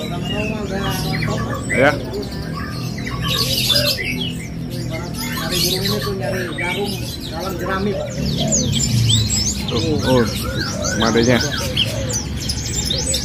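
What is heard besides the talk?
small songbird singing non-stop at bird kiosk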